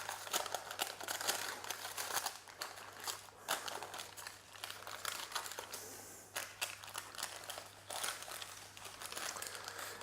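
Baking paper crinkles and rustles as it peels away from a warm gluten-free, dairy-free, sugar-free spiced malt fruit tea cake, a soft close-up crackling that runs in irregular bursts throughout.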